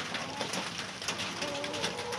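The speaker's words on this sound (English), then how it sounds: "It is a wet, rainy Oregon day." Rain falls steadily outdoors on a wet Oregon day, a soft dense patter with scattered drips and a faint bird call in the background.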